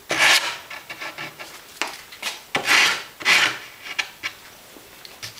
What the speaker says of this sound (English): Just do light sanding